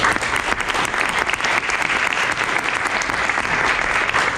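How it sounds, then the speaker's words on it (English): Dense, steady audience applause fills the whole stretch at a music teachers' conference after group piano presentations, loud and continuous without pause. "One more round of applause for everybody."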